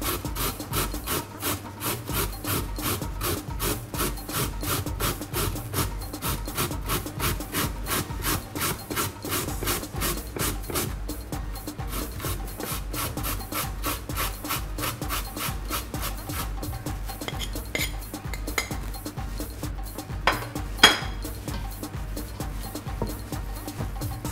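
A medium carrot is grated by hand in a steady, fast rasping rhythm of repeated scraping strokes, close and moderately loud, continuing evenly the whole way with a couple of small knocks near the end.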